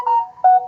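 A short electronic phone ringtone chirps loud and close, two quick tonal bursts with no talking.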